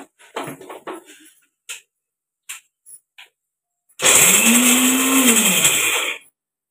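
Mixer grinder grinding almonds, cashews and nutmeg roars in one loud, continuous burst of about two seconds with a rising and falling motor whine, after a few clattering knocks and handling sounds.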